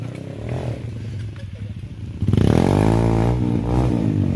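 An underbone motorcycle on a rough dirt trail in the Baguio–Benguet mountains, its small engine droning loud and close before revving harder midway, with clattering and scraping over the ground and a voice mixed in.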